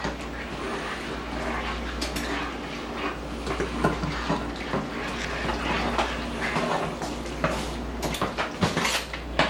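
Utensils scrape and clink against a pot while penne rigate macaroni and cheese with red onions is stirred, steady busy kitchen clatter with a low hum underneath for the whole stretch.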